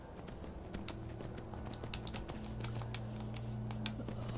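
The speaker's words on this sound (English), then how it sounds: "Apparently I'm on the horse." Horse hooves clip-clop in the video game Skyrim, a steady, fairly quiet run of clicky footfalls set against a low humming game backdrop with no talking.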